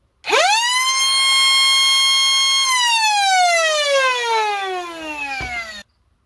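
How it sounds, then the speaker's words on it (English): A single-motor foam dart blaster spins up to a loud, steady high whine, holds, then winds down in a falling siren-like tone before cutting off abruptly. "It sounds like a real angry siren coming at you with just one motor."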